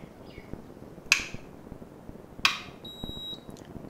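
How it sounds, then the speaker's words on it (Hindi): An induction cooktop under repair beeps as it is switched back on. Two sharp electronic clicks sound over a low background hum, followed by a short, steady high tone. No one speaks. "देखिए, फिर से बीप की आवाज़ हुई"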